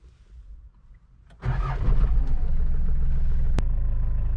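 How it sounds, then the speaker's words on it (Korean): A 1993 Hyundai Galloper, a thirty-year-old SUV, cranks and fires up after a quiet start. It settles into a loud, steady, close-up idle with a brief click partway through. "시동 소리 한번 들어보실까요?"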